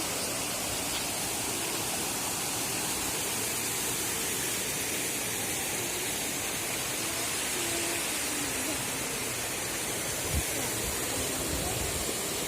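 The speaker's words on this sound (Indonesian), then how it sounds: "air terjun" Steady, dense roar of falling water fills the whole clip, broadband and constant, like standing close to Elnaja waterfall in Lhoong, Aceh Besar.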